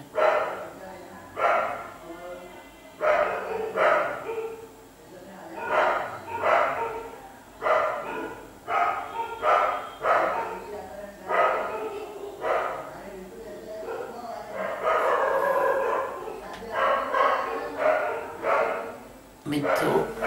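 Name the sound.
dogs barking outside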